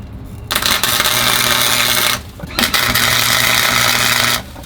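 MIG tack welding a metal plate into place for a shifter on a Datsun: two sustained loud buzzing, crackling welding bursts of about two seconds each, separated by a short pause.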